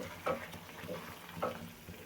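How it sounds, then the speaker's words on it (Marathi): A ladle stirs boiling tamarind and tomato water in a pot, making two or three soft, quiet clinks over a low bubbling hiss. "थोडं पळीन असं हलवून घ्यायचं"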